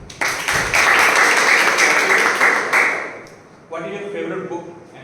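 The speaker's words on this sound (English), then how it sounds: "big round of applause for Shifali." Audience applause for a volunteer at a club meeting, dense clapping from a small room that holds steady for about three seconds, then tapers off as a voice starts talking.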